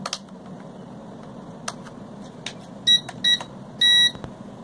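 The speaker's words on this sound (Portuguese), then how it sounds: "Olha, quando faz o guincho, o drone desliga." A small drone with a seized, dirty motor lets out short, high-pitched electronic squeals before shutting off: two brief bursts, then a longer one, over faint background hiss and scattered clicks.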